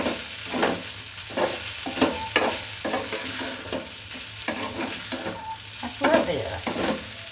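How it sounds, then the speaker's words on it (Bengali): Food sizzles in a frying pan while a spatula stirs it in regular scraping strokes, about one every second, over a constant background crackle. "ভাজা হয়ে গেছে এখন"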